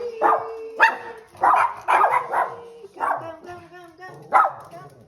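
Several dogs in Calgary bark in short, repeated bursts at close range, mixed with yips, while people talk over them.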